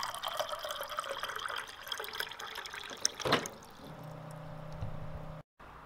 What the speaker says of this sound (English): Here I have a cup, and I'm gonna fill it up with water.